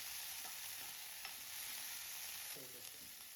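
Green chillies sizzle steadily in hot oil in a pan for a coriander-mint chutney, a constant bright hiss with a few soft clinks of a spoon, no talking.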